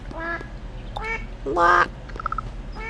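A gray duck in a video game quacks several times in quick succession, with short nasal calls and one louder, longer quack in the middle, all close and clear with no talking.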